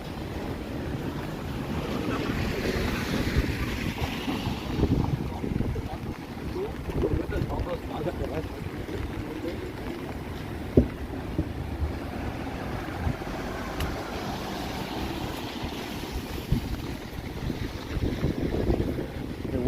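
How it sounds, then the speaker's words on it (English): Gusty wind buffets the microphone on a rainy downtown Toronto street at evening, a continuous rushing roar with swelling gusts and a hiss of wet background, near and fairly loud throughout. "Wind is trying to blow my umbrella away, but I'm resisting."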